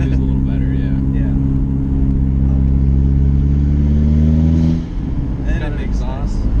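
A VW MK4 Jetta 1.8T with an upgraded turbo and aftermarket exhaust drones loudly at steady revs from inside the cabin, its low engine hum dropping off near the end, with people talking over it.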